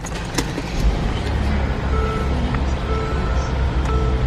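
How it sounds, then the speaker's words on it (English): A 2017 Mercedes-Benz GLE 350 4MATIC engine turns over and catches, then settles into a loud, steady, close idle rumble. "Let's go ahead and start the vehicle up here."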